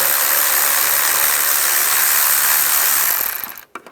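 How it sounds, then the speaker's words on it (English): Rapid, steady ratcheting from a 10mm socket ratchet loosening worm-drive hose clamps on a 1996-2002 Toyota 4Runner engine bay, a dense mechanical clicking run that continues for about three seconds and then cuts off abruptly. "we're going to loosen up the worm clamps."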